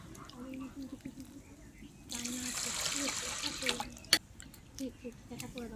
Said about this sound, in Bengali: আর ডালটা সব সময় এইভাবে ধুয়ে নেবেন